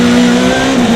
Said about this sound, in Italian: il motore ovviamente della WRC Plus tira via in una maniera imbarazzante